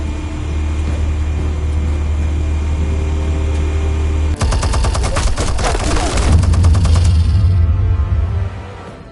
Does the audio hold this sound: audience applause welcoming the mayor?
no